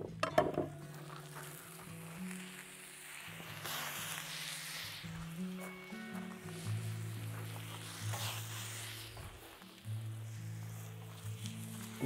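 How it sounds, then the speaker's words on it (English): Vegetables sizzle and fry on a hot grill, a steady crackling hiss with intermittent scraping and stirring clatters of a utensil, fairly close and moderately quiet. "You can hear the sizzle,"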